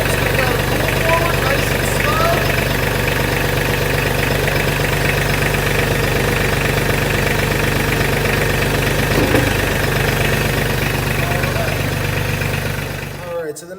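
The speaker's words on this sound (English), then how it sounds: "we're going to start the tractor up and pull straight into it." A Mahindra Max 24 compact tractor engine running steadily at idle nearby, a constant low rumble with a faint knocking pulse that holds unchanged for the whole stretch before cutting off abruptly at the end.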